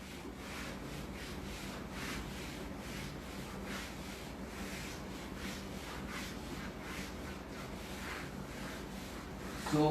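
A board being rubbed clean of writing during a maths lecture, a steady back-and-forth swishing that keeps up a rhythmic rub for about ten seconds, close and moderately quiet, with no voice.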